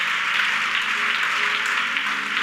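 A church congregation applauds in a steady, dense wash of clapping that holds at an even loudness throughout.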